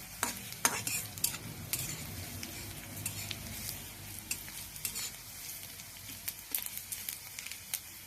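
Panch phoron spices crackling and sizzling in hot oil while being stirred, with sharp scraping clicks of the spoon against the pan over a continuous fry hiss.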